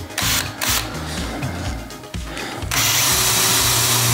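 Power drill boring a pilot hole in a Honda CB500 motorbike cowl, a loud close whine that shifts in pitch as the bit bites and then rises to a steadier high buzz for the last seconds.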